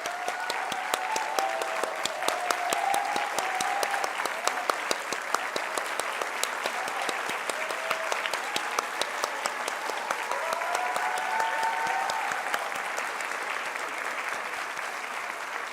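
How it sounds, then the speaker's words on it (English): A standing conference audience at the 39th WAGGGS World Conference gives volunteers a sustained round of applause, dense even clapping that fills a large hall for about sixteen seconds. "please will they be upstanding so that we can give you all the big round of applause"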